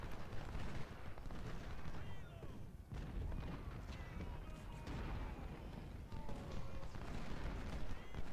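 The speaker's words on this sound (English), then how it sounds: "That artillery is a real killer." Continuous rumbling battle din from Ultimate General: Civil War, with artillery booms and scattered gunfire blending into a dense, fairly faint wash that stays steady from start to end, and a voice talking over it.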